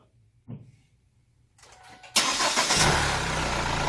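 A SsangYong Korando C engine cranks briefly and catches, settling into a loud, close steady idle after a few quiet clicks beforehand.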